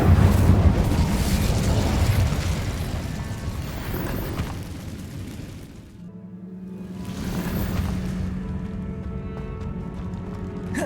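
Incendio fire spell bursting in Hogwarts Legacy: a loud, roaring fiery rush that dips briefly, then swells into a second surge of rumbling flame, steady and close without talk.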